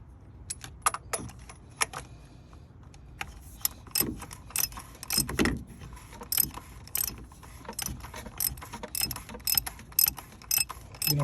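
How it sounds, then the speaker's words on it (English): A ratchet tightens the oil filter cap on a 2015 Chevy Trax with the Ecotec 1.4 turbo. It gives quick bursts of close, crisp clicking with short pauses and metallic handling noises between strokes. "Then grab your ratchet."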